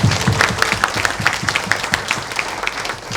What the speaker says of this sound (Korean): 우리 자신을 위해서 큰 박수 한번